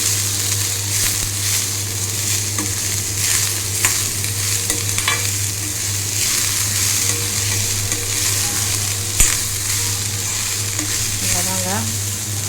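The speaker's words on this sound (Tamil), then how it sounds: "ஒரு 300 grams ஆஃப் பீட்ரூட், 1/4 கிலோவுக்கு கொஞ்சம் ஜாஸ்தி. நல்லா போட்டு ஸ்டர் பண்ணிப்போம்." About 300 grams of beetroot sizzles steadily in a pan while being stirred, with scraping and clinks of the spoon over a constant frying hiss, close and loud, and no voices.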